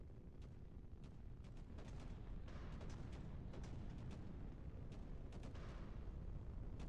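In Nebulous Fleet Command, fleet guns open fire in a rapid, irregular barrage of bursts over a deep rumbling bed, fairly faint and distant.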